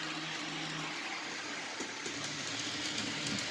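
An HO scale model train runs on a layout with a soft, steady mechanical whir and faint rolling hiss, quiet and unbroken, with no voices.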